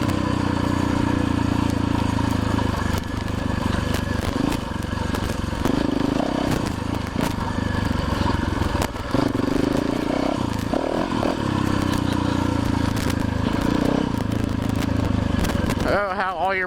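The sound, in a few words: enduro motorcycle riding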